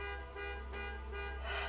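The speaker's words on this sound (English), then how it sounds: "They're honking. That's what that is." Car horn honking from a car stuck behind another car right next to an apartment, several sustained harmonic toots spread across the moment, heard from indoors and moderately loud.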